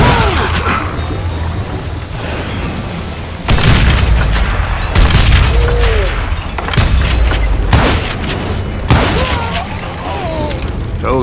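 Gunfire in the Western shooter Call of Juarez: Gunslinger, with loud booming shots and bursts that arrive in uneven clusters over game effects and a rumbling background, close and dense throughout.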